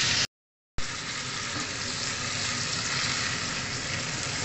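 Eggs frying in oil in a pan, a continuous bright sizzle that cuts in after a brief silence and holds steady and close throughout.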